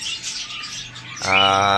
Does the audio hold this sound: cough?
no